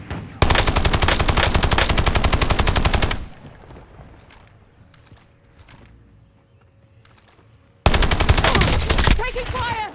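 Automatic rifle fire in Call of Duty Warzone comes in two long, loud, rapid bursts of shots, separated by a quieter stretch of footsteps and movement.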